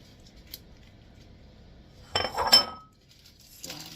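A pan for a Thanksgiving roast bird is set down and handled, with a short cluster of metallic clinks and scrapes following a quiet stretch, then a faint rattle near the end.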